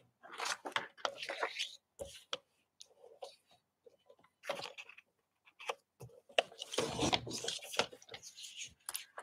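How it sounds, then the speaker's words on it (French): A craft blade cuts paper for a scrapbooking album in short close scratchy clicks and slicing strokes, in irregular bursts with pauses, quiet and nearby. "Alors, je vais prendre ma lame qui coupe."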